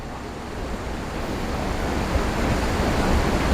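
Waterfall in Lapuyan, Zamboanga del Sur, with a strong current, a continuous broad rushing roar that builds slightly, close and loud with no other sounds.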